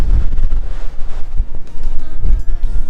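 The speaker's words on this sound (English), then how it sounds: "it's getting a little windier" Wind gusts over the open deck at the back of the Carnival Luminosa cruise ship, a loud, close rumbling buffet striking the microphone, with no voices.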